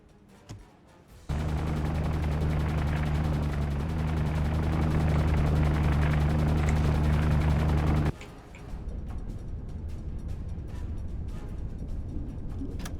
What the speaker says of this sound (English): That is a Sunderland.